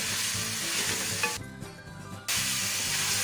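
Mutton fries on a high flame in a pot, giving a loud, continuous sizzle and crackle with a brief dip partway through, close and alone.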